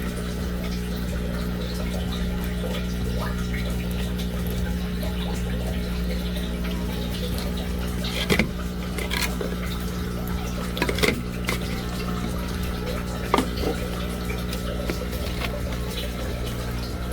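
Water in a homemade aquaponics system runs steadily through a siphon and drains, a constant close trickle and gurgle with a few brief knocks and clinks partway through, no talk.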